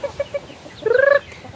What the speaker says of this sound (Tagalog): Daghan kog mga manok diri day.